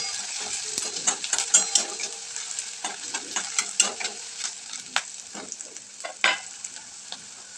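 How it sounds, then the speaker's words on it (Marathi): Onion and ginger-garlic paste sautéing in hot oil, with a soft constant sizzle broken by frequent sharp clicks and scrapes of a spatula against the pan, close up. "आणि दोन्ही पण ते छान असं परतून घ्यायचे तेलामध्ये"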